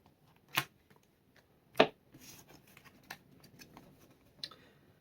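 A deck of Yu-Gi-Oh! trading cards being shuffled: two sharp riffle bursts followed by softer scattered taps and flicks of cards, close and otherwise quiet.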